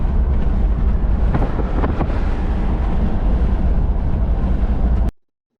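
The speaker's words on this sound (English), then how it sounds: "Woo, it's windy." Strong wind buffets the microphone at the entrance to White Sands National Park, New Mexico. Loud, continuous low roaring rumble with gusty surges runs for about five seconds, then cuts off abruptly.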